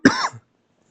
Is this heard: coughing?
yes